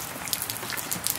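Sudden heavy rain shower, a dense continuous hiss of raindrops pattering on a surface with scattered sharper drips, steady and fairly close.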